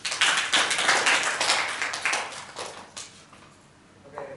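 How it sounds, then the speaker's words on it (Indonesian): A class claps hands for two classmates during a microteaching sociology lesson, a short burst of moderately loud clapping that fades out after about three seconds. "tepuk tangan dulu."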